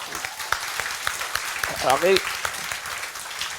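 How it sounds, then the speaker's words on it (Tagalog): A church congregation claps loudly in a rapid, continuous patter while a voice speaks briefly over it. "pumalakpak ng malakas."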